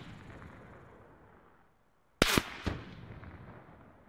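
Gunfire from a long-range engagement in Call of Duty Blackout: two sharp cracks in quick succession followed by a third, heard over a low ambient rumble that fades to near silence before the shots.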